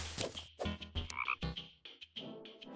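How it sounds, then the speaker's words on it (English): A frog in the video game Terraria croaks repeatedly in a quick, uneven series of loud, close calls with short gaps between them and no voices over it. "Frog!"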